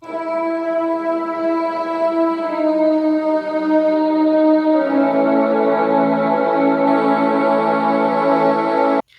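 Sustained layered synth strings hold long chords, shifting to a fuller, brighter voicing midway before cutting off abruptly at the end.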